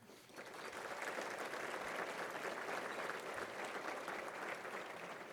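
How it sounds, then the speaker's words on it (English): An audience at an economic development annual meeting bursts into full applause after a brief quiet moment, many hands clapping in a thick, sustained roar that holds steady to the end. "Let's give them a round of applause."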